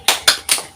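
Children in a classroom doing the tepuk semangat cheer clap, three loud bursts of hand claps in a quick uneven rhythm, close by with no talk over them.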